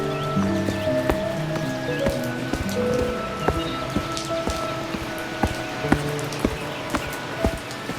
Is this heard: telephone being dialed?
no